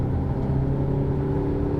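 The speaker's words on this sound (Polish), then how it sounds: "Rozpędźmy się do 120 km na godzinę." A Volvo XC60 accelerating on a highway ring road produces a steady, loud cabin drone of engine hum and road noise with sustained low tones, heard from inside the car with no talk.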